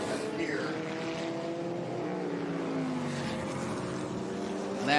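Vintage Lotus, McLaren and Cooper race cars battle at Laguna Seca, their engines droning steadily at mid distance with rising and falling pitch as the cars pass.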